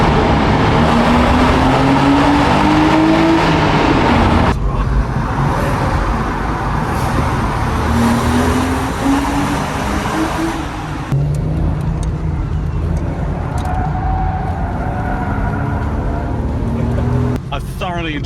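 Porsche Boxster 986 S with its 3.2-litre flat-six revving hard and loud, rising pitch sweeps through several gears as it accelerates, with steady road and wind roar throughout and a voice talking over parts of it.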